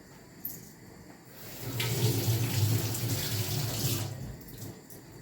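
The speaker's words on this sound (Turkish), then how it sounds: "Sarımsaklarımızı da yıkayalım." Garlic cloves rinsed under a running kitchen tap, a steady rush of water splashing into the sink for several seconds, fairly close and with no talking.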